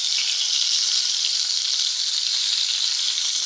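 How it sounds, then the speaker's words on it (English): Steak wrapped in bacon searing in a hot pan, a loud, steady, close sizzle with a continuous hiss and no pauses. "That's to hold the bacon in place. Just to sear it."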